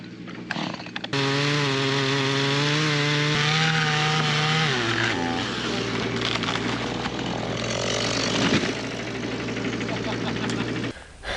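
A loud, close chainsaw revs up and whines steadily, then its pitch drops and roughens as it bites into wood, cutting continuously.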